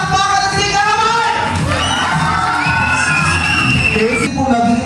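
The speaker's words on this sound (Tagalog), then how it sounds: "pwede ko po marinig ang inyong isang malakas na palakpakan at sigawan!" Guests at an 18th birthday party clap and shout loudly, a dense burst of cheering, whooping and children's yells close by that stays up for several seconds.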